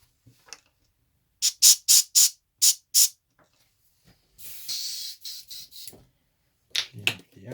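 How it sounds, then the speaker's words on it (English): An airbrush being cleaned by backflow, heard as a run of sharp, short bursts of spray, then a longer hissing blast broken into pulses, and a few more quick puffs at the end, close and loud. "clean up the airbrush. Little backflow."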